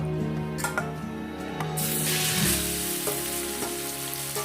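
Ingredients roasting in a hot pan for northern Thai pork larb: a steady hissing sizzle that swells into a dense, loud spray of frying noise over a faint tonal hum.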